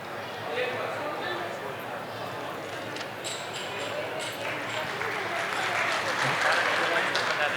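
A conference hall audience at a Saraswat Brahmin gathering in Jodhpur, Rajasthan claps steadily throughout, a broad continuous wash of many hands with faint voices beneath it.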